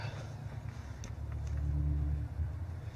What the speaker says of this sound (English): put the battery in, and start her up, see if she starts up